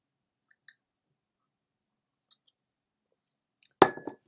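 Tea is served into a cup in a quiet room: a few faint, light clinks are followed by one sharp, ringing clink and some brief rattling close by.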